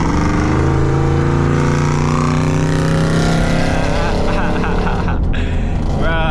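A turbocharged Ford Mustang accelerates hard at night on a highway, a loud, close engine roar whose pitch climbs steadily through a gear before a brief break near the end.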